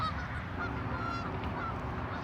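Geese honking around a pond near the I-57 highway, several faint calls scattered over steady low traffic rumble.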